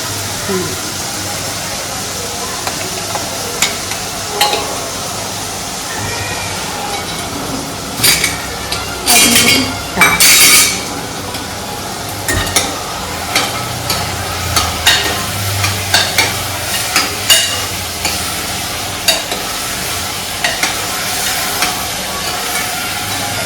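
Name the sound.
tempering vegetables in hot oil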